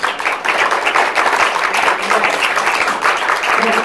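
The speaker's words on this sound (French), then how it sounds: "on peut applaudir très fort" A crowd claps and applauds after a film presenter is announced, a dense, steady burst of hands lasting a few seconds at close range.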